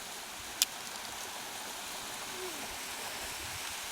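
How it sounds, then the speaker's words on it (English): Steady broadband rush of glacial meltwater flowing from the mouth of a small Swiss glacier, constant and fairly near, with a single sharp click early on. "This is the mouth of this little glacier, and of course it's melting now, and the water's coming through"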